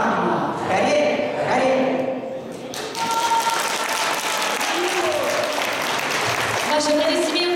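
An audience at a Sunday concert program with a choir in Yekaterinburg breaks into sustained applause, a dense burst of clapping that swells after a pause while a voice speaks over it.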